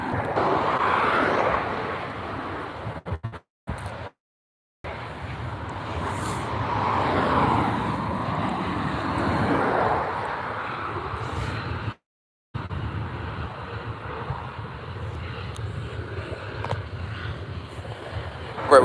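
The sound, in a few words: aircraft engines at Newcastle airport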